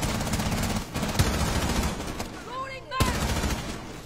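Rapid bursts of close, loud automatic gunfire from Rainbow Six Siege, dense crackling volleys with brief gaps and a few metallic pings, while players talk over it.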